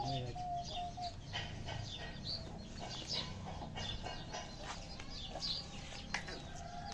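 Pigeons coo and call close by with a busy, fluttery rustle of wings flapping over a steady low background; no one speaks.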